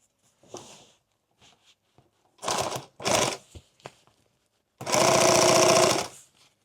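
A sewing machine stitches the heavy material of an extra-large tool bag, running in several short bursts and then one longer, louder run close by; no talking.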